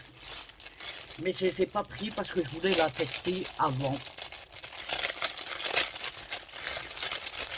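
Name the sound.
paper crumpling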